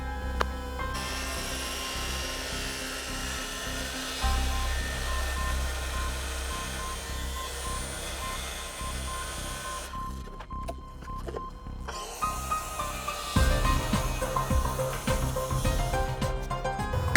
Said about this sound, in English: Now I'm gonna finish these off with the jigsaw.